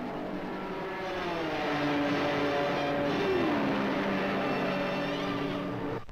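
Ford GT and Ferrari race cars roar around the Le Mans 24-hour circuit: a sustained, loud engine drone whose pitch drops as a car sweeps past, with no voices.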